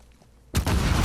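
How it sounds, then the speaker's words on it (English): An explosion goes off beside a rider on horseback in The Last of Us Part II. After half a second of quiet, a sudden loud broadband blast hits and its rumble keeps roaring to the end. The hooves cannot be made out. "At one point I'm riding on my horse and all of a sudden something explodes nearby"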